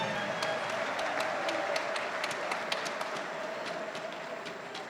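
A large crowd at a night of prayer claps and cheers steadily, a dense wash of applause that holds for several seconds and fades slightly toward the end.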